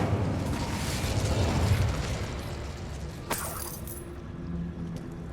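The Incendio fire spell is cast in the Hogwarts Legacy video game: a dense, roaring whoosh of flame with a sharp crackling burst midway, then a fading rumble.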